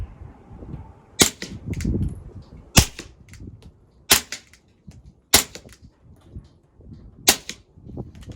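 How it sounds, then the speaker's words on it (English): Six suppressed 9mm pistol shots fired through an Octane 45 silencer, sharp close cracks spaced irregularly a second or so apart, with faint rustling between them and no talking. "So this is just the silencer on here. So you're gonna right away notice a huge difference."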